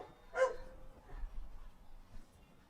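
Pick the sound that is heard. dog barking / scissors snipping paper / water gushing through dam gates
dog barking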